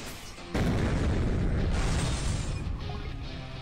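A bomb detonating in the motorcycle combat game Road Redemption bursts in with a sudden loud boom that rolls into a long, roaring rumble before easing off slightly.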